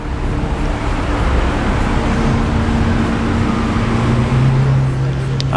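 A Lamborghini Huracan cruising through Las Vegas at night, its steady loud engine drone and road rumble filling the cabin, with a low tone rising slightly near the end.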